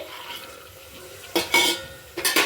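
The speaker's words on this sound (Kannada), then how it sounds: "ಎಣ್ಣೆಯಲ್ಲಿ ಸ್ವಲ್ಪ ಫ್ರೈ ಆಗುತ್ತೆ ನೋಡಿ" Tomato and peas fry in oil in a pan. A soft background sizzle is broken by two loud, close scraping stir strokes near the end.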